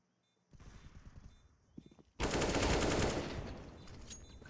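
Silenced M4A1-S rifle fire in the Counter-Strike video game: a softer patter of shots, then a sudden loud, dense burst of gunfire that stays intense for about a second before easing off, with no voices.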